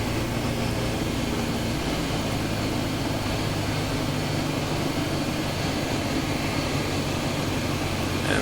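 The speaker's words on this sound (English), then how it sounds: "Alright, pull carb heat on, slow the plane down." A Sport Cub light airplane's engine drones steadily in flight as the pilot pulls carb heat and slows the plane, a constant close cabin hum with no talk.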